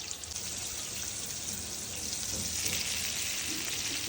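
Pomfret fish frying in a pan of hot oil, a steady, loud, dense sizzle and crackle that runs continuously with no talk.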